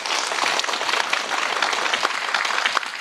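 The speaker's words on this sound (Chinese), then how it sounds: "我们为三号选手的诚实和勇气给予掌声" Loud, close applause from a studio audience at a televised quiz show for contestant number three, a thick unbroken wash of clapping that stays level throughout and ends abruptly.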